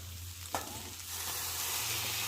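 Brinjal slices drop into a hot frying pan with a sharp hit, then a steady, close, bright sizzle builds and holds, growing slightly louder toward the end with no talking.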